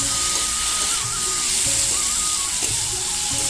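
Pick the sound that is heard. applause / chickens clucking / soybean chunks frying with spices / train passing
soybean chunks frying with spices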